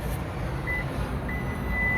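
A 2023–2024 Toyota Sequoia SR5 power liftgate chirps after its kick sensor is triggered, giving two short beeps over a steady idling engine rumble outdoors, with the second tone held longer.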